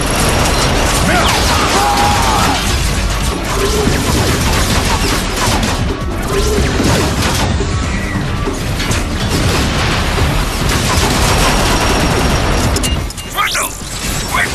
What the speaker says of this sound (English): Jump on the dropship and man the cannon!